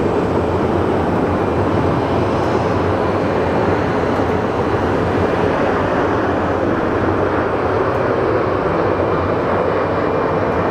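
Airliner on flight 2119 from Dallas landing at a rainy airport, a loud, steady broadband jet roar that fills the whole clip without letup.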